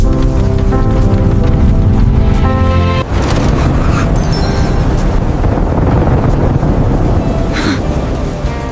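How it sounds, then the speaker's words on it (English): A storm with wind and rain roars loudly and steadily, heavy rain hissing against a background of gusting wind, with a few sharp cries rising over it partway through. "This storm feels strange."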